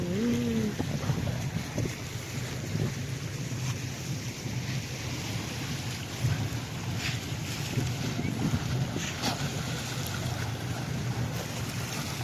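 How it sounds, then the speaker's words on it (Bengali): Sea waves on a Qatar shore wash in a steady, rushing roar mixed with wind buffeting the microphone, with a brief voice near the start. "ও সমুদ্রের ঢেউ কলকল শব্দ"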